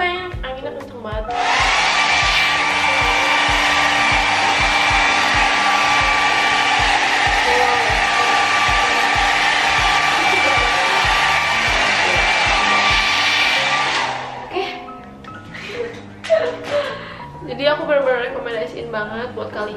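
A Kris 600-watt travel hair dryer blows in a loud, steady whirring rush for about twelve seconds, then cuts off as a person starts talking, with talk also heard before it starts.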